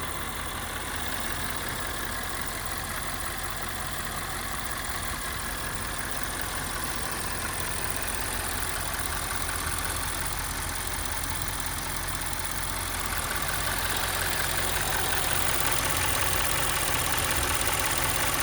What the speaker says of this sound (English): here is your 4-liter twin turbocharged V8